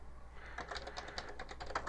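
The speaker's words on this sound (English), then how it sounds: "We'll start by typing the name of our map" Rapid keystrokes on a computer keyboard while a map name is typed, a steady run of light, close clicks over a low background hum.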